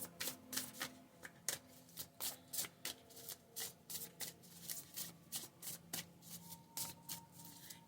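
Tarot cards are shuffled in quick, steady riffling bursts, each a soft papery flutter repeating at a near-even rhythm, close and quiet, with no talking.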